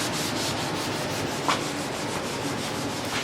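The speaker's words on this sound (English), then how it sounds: "we're trying to clean up the leather ears for the Minutemen drum with saddle soap" Steady rubbing and scrubbing of leather drum ears with saddle soap, a continuous soft rasp with slight rhythmic strokes and no voices.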